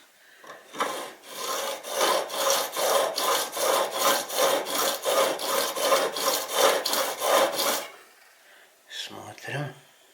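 A Victorinox or Ikea vegetable peeler blade is sharpened with about sixteen steady back-and-forth rasping strokes in an even rhythm, close and fairly loud, then a pause and a few faint scrapes.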